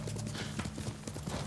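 Horse hooves clip-clopping in a quick repeated rhythm in Ghost of Tsushima gameplay, fairly loud and close, with a hint of a whinny and no speech.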